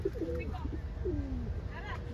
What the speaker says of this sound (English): Pigeon, baby pigeon.